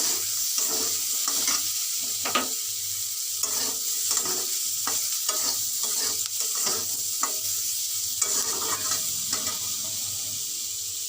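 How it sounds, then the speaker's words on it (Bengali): Garlic, ginger and green chillies frying in a little oil, a steady close sizzle with repeated scraping and stirring clicks throughout, no talking. "রসুন আদা কাঁচা লঙ্কা এগুলো একটু আমি ভেজে নেব"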